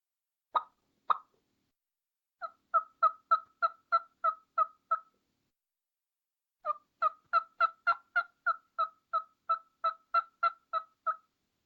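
A hand-operated turkey call imitating a hen: a couple of sharp clucks, then two runs of rhythmic soft yelps, evenly spaced and close, alone in near silence.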